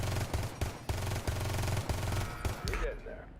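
Rapid automatic gunfire at a shooting range in Rainbow Six Siege X, several close, loud bursts of shots in quick succession that stop near the end, leaving a short ringing tail.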